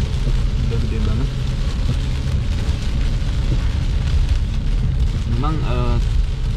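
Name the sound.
heavy rain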